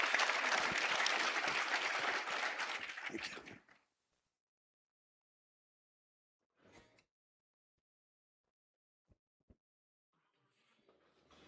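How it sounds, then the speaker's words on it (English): A conference audience claps for a panel for about four seconds, a loud dense burst that stops abruptly and gives way to near silence broken by a few faint thuds and rustles. "Will you guys give them a round of applause?"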